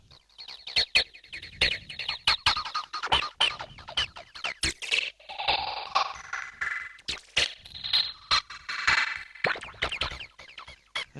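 A 303 acid line running through a slicer and a mini chaos pad phaser delay, heard as choppy, squelchy gated stabs that swirl in sweeping phased washes. It plays at moderate level with no voices.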